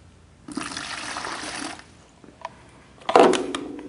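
Water is poured in to mix raspberry merlot sorbet ingredients with sugar, a splashing, gurgling pour lasting over a second, followed by a small clink and a louder burst of splashing near the end.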